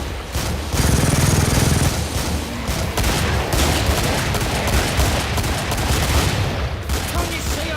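The Patriarch's chain gun in the game Killing Floor fires in dense, sustained rapid bursts, loud and close, with a brief pause partway through and a voice talking over the din.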